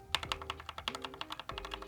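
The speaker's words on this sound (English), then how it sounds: "I did lube this escape key. So this is the only switch on this keyboard that is lubed. And this is what it sounds like" Lubed escape key switch on an Epomaker Skyloong SK61 60% gaming keyboard pressed repeatedly, giving close, crisp clicky taps in a quick irregular series, heard alone.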